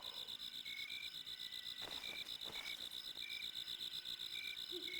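Steady, evenly pulsing insect-like chirps fill a video game zone, an unbroken synthetic cricket loop with a higher tone recurring at intervals and a couple of brief louder sweeps.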